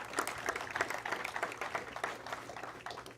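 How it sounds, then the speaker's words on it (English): Applause from an audience at a diabetes institute announcement for the PGA Tour ISCO Championship, a steady round of clapping with dense, irregular hand claps lasting throughout at moderate level. "Give yourselves a round of applause for stepping up and making a difference"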